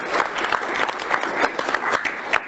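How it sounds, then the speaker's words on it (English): Applause at a city council meeting rises briefly, steady, moderately loud clapping from a seated room lasting a couple of seconds. "We'll give them a round of applause."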